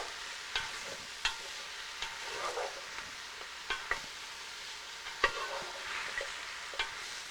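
Mixed mushrooms coated in oil are gently stirred as they fry, with a soft continuous sizzle and regular light scrapes and taps of the utensil in the pan.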